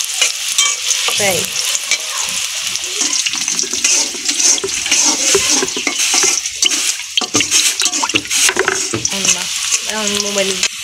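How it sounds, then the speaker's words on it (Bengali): Onions sizzle and fry in a pan while being stirred in a village kitchen for a hilsa and water lily curry, steady loud frying throughout with scraping stirs, clinking pan sounds and a brief spoken word. "রান্না বান্নার আওয়াজ"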